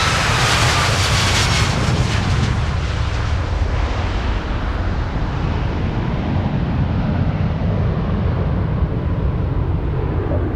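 A Boeing 737 MAX departs at the Farnborough air show, a loud, sustained jet engine roar filling the scene throughout and slowly easing as the aircraft climbs away.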